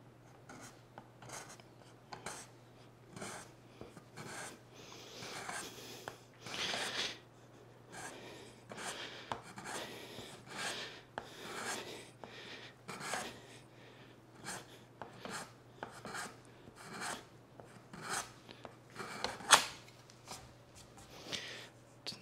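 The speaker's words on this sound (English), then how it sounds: "Flex your card scraper quite a bit, and then we're just going to start in the middle and kind of work our way until we get a nice hollow." A flexed card scraper works the sole of a wooden hand plane, giving repeated dry rasping strokes in irregular bursts, close and fairly quiet, with a steady low hum underneath and no talking.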